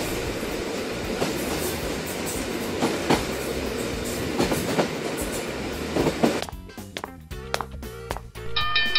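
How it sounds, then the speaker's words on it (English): A train rumbles past with steady clattering wheels, growing louder and more rhythmic toward the end, with sharp metallic clacks. "Here's a train."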